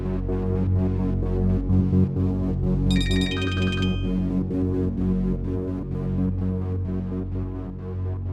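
A phone ringtone plays loud and steady, with a brief burst of bright chiming tones partway through, no one speaking.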